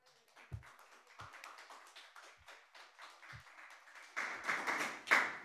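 A small seminar audience claps after a talk, starting with a few scattered taps and thuds, then swelling into fuller, closer applause toward the end.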